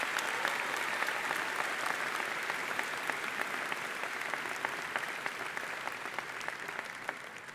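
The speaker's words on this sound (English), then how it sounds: "So I'm hoping you can also join me in a round of applause for these 7 graduating students." A university commencement audience gives a sustained round of applause, a dense patter of many hands clapping at moderate distance, slowly easing off toward the end with no talk over it.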